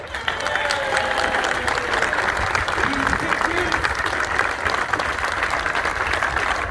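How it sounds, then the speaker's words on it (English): Continuous crowd applause at a football academy presentation day, a steady loud wash of clapping across the whole stretch with voices faintly audible underneath. "I'd just like a continuous applause while they all walk up and give their certificate for leaving the academy"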